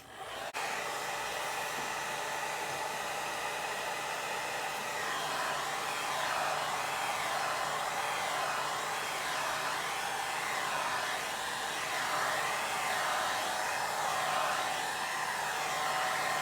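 A hair dryer blows steadily and close by for the whole stretch, drying a watercolor painting made with a hake brush, its airy whir constant and loud with no talk over it.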